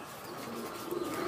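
A pigeon gives a soft, low coo, close by and steady, with no talk over it.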